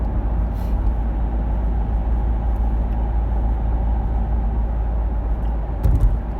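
A Ford Connect van with 222,000 km on the clock drives along with a steady, close engine and road rumble throughout, a brief louder bump near the end.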